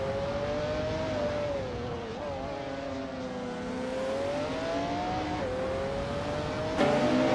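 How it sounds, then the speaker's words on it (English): Steady high-pitched engine whine of a 1995 McLaren F1 GT race car in a racing video game, rising and falling with gear changes and throttle, loud and continuous with a sharp burst near the end. "SGT Cross is driving a 1995 McLaren F1 GT"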